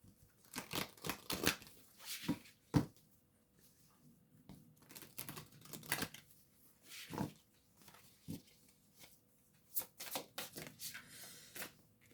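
Deck of oracle cards being shuffled in a card reading, a quiet series of crisp riffling and tapping bursts in irregular clusters, close and soft with no talk.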